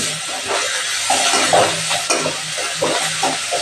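Garlic and coriander roasting in a pan crackle with a close, steady sizzle, while a spoon scrapes and stirs at an uneven rhythm throughout.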